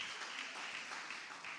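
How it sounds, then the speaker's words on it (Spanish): Congregation applauding during a sermon at a church service, a brief continuous burst of clapping at moderate level with no clear speech. "dele un aplauso al Señor"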